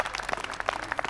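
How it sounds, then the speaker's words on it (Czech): Brief, fairly faint scattered clapping from a small group at an outdoor unicycle flatland game, a quick burst of claps after a trick. "Odjel trik, zatleskáme mu."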